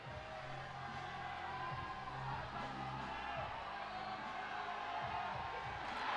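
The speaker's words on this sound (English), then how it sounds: "The crowd enjoyed that." Crowd cheering and whooping at a youth world championship bouldering competition in Innsbruck, a broad, steady roar of many voices filling a large hall, with a few louder shouts rising near the end.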